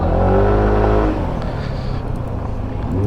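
A SYM ADX 125 scooter rides onto a gravel road, its engine droning loudly up close and then easing off as wind and tyre rumble take over.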